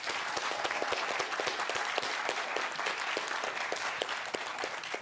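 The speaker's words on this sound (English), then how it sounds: "Sure, they get applause because they're your kids and you love them." Audience applause greets two high school quiz bowl teams, Aragon Dons and Menlo High School Knights, a steady wash of crowd clapping with distinct individual claps standing out, fairly quiet and distant, without speech.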